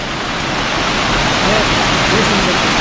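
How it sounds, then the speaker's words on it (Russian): A 10-metre waterfall pouring onto the turbines of a mill in a Tajik mountain village: a loud, steady, broadband rush of falling water that fills the whole stretch without a break. "Вода падает вон туда и крутит турбины."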